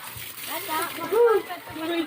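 Sea water splashes around people bathing at the shore, with short sloshing bursts while voices talk and a voice is heard throughout.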